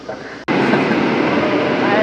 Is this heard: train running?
yes